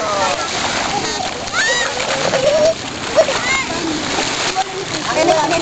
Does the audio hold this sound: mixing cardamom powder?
no